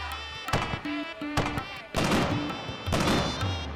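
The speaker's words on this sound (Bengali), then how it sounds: "পাড়ার আতশবাজি খুব বিখ্যাত।" Cartoon fireworks at a competition, a run of loud bursting bangs and crackling pops spaced across the clip, mixed with musical tones and brief voices.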